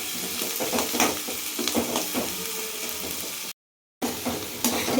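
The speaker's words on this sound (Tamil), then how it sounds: "வெங்காயம் நல்லா பொன்னிறமாக வதங்கணும்." Small shallots (sambar onions), onions and dried red chillies fry in oil with mustard seeds for mushroom chinthamani, a steady close sizzle with occasional stirring scrapes and a brief dropout near the end.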